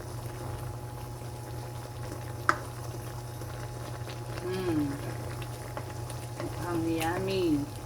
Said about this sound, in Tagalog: kumukulo na ang ating gata